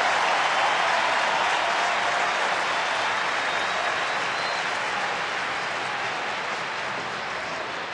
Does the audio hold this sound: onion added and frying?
no